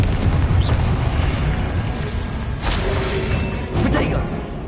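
Confringo fire spell blasts in the Hogwarts Legacy video game, a dense rumbling boom with sharp bursts near 2.7 and 3.8 seconds, set under a constant bed of battle noise and talk.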